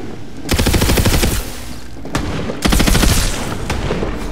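Rapid automatic gunfire in the shooter video game Tiny Tina's Wonderlands, two loud sustained bursts of dense crackling shots separated by a brief pause, close and dominant with no talk over it.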